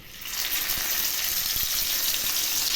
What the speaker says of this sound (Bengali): তেল গরম হয়ে গেছে এবার মাছগুলো ছেড়ে দিচ্ছি